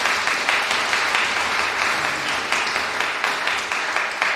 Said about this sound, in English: So huge round of applause for David.